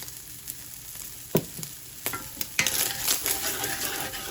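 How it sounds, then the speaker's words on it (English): Seasoned sausage sizzling in a pan, sprinkled with pepper, garlic and onion powder, while a utensil stirs and scrapes through it in a few sharp knocks over a steady, close fry that grows busier toward the end. "Give that a stir real quick."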